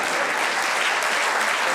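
An audience claps steadily and densely throughout a short burst of applause.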